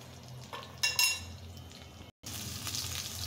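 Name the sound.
fish frying in a pan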